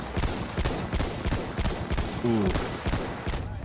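Rapid gunfire from a weapon in Battlefield 1, a steady burst of regular shots filling the clip, with a short exclamation from a voice near the middle.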